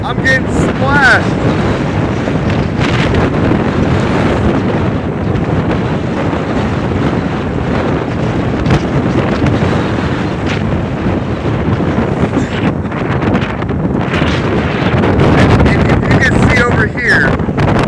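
Hurricane Helene winds lash the coast at Fort Pierce, a constant loud roar of wind battering the microphone with surf and splashing beneath, steady and unbroken throughout with brief voices now and then.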